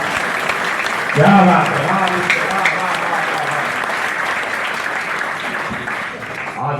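A crowd at a Holi comedy poetry gathering in New Delhi breaks into loud, sustained applause that fills the hall. A voice calls out in appreciation over the clapping.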